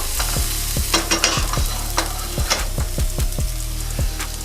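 Aromatics sweating in a pan before arborio rice goes in for risotto, a soft steady sizzle punctuated by a regular series of clacking stirring strokes from the spoon against the pan.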